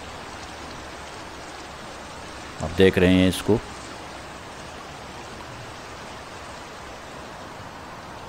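Clean canal water flows with a steady, even rushing hiss in an outdoor natural setting, continuous throughout, with someone speaking briefly partway through.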